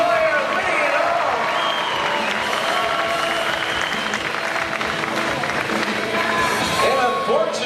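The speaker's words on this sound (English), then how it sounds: "Big round of applause for Latoya winning it all." Loud applause and cheering from the crowd at a Fear Factor Live stunt show in Orlando, with whoops and shouted voices over continuous clapping and an announcer's voice mixed in.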